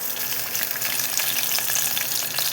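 Garlic and green chillies fry in hot oil, a dense, steady sizzle with crackling spits throughout, close and loud, with no talking.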